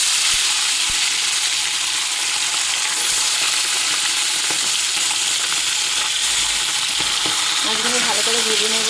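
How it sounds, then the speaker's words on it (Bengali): Chara pona fish fry in hot oil with a loud, continuous sizzle and crackle close by, occasional stirring clicks, and a faint voice near the end. "তেল খুব ভালো মতো গরম হয়ে গেছে, এখন মাছগুলোকে ছেড়ে দেব।"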